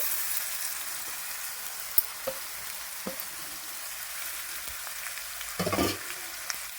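Grated raw mango for mango pulihora frying in a pan, giving a soft, steady sizzle with a few light taps and a brief louder crackling burst near the end; no voices.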